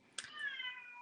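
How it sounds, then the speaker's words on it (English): A pet cat meows at a door to be let in, one drawn-out, rising and falling cry with a sharp onset, fairly close and clear against a quiet room. "Oh, my kitty's at the door wanting to come in."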